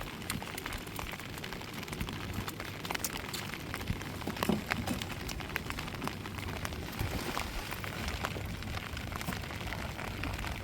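Steady rain falls over the open sea near a prawn-netting boat, a dense, even hiss of drops with scattered louder splashes throughout and no voices.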